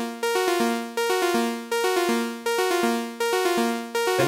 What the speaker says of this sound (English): Now, what I'm going to do is create a syncopated rhythm that is like a polyrhythm.